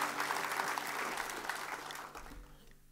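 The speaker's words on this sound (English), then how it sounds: "Can you guys give him another round of applause for that?" An audience at a banjo camp concert gives a round of applause, moderately quiet and sustained, tapering off near the end.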